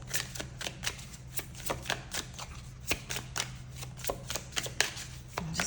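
Tarot cards being shuffled by hand, a close and steady run of soft riffling slaps and flicks repeating every fraction of a second over a faint low hum.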